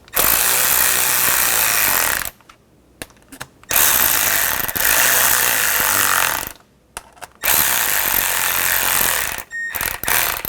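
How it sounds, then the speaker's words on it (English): A ratcheting tool drives screws into a plastic seat switch panel on a 2007 Chevy Silverado 1500 Classic, loud close rapid clicking bursts broken by short pauses, with no talking. "put the screws in, and snug them down"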